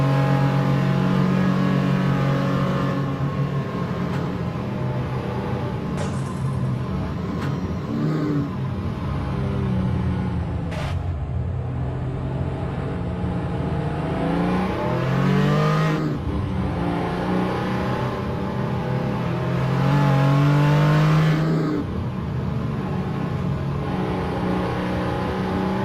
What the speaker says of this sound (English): Let's ride with Daryl Kruger in the number 94 Porsche 935 K3.